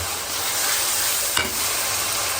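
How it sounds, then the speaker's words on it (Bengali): Onion frying with garlic and ginger paste, a loud dense hiss of sizzling oil throughout with one brief stir or scrape near the end. "পেঁয়াজটা একটু লাল করে নিলাম রসুন বাটা আদা বাটা জিরা দিয়ে ধনিয়ার গুঁড়া"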